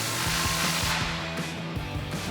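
Rhythmic scraping and ratcheting from a 15mm socket wrench working a rusty exhaust clamp on a Ram 2500 truck, repeated close strokes over a steady background noise.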